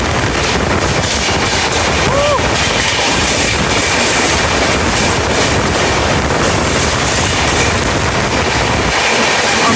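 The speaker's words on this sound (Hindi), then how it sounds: "भाई क्या पैरेलल रेस चल रहा है अभी। ओह माय गॉड, दोनों ट्रेन" Steady, loud rumble of two trains running side by side in parallel, with rhythmic clatter of wheels on track, a dense roar of rail noise filling the whole stretch.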